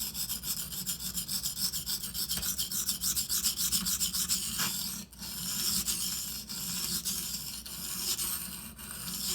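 A Benchmade Anthem knife blade is ground on a Shapton Pro whetstone with steady, rhythmic back-and-forth rasping strokes, close and fairly quiet, with no talking.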